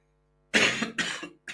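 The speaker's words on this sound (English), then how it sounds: "I told you I'll be coughing a lot in this episode" Two harsh, close coughs in quick succession, followed by the start of a third, loud against an otherwise silent background.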